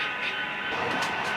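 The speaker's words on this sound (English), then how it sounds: "So now to move on to seeing some trains move around." Narrow gauge model trains run on a club's New England–themed model railroad layout, making a steady whirring, rumbling hum with faint metallic clicks, continuous and fairly close, with no voices.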